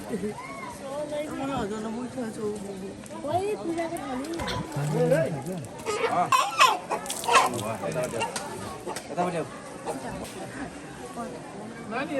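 Chickens cluck and squawk repeatedly amid a busy, noisy New Year crowd at Chabdi Barahi temple, where chickens are slaughtered, with people talking over them throughout.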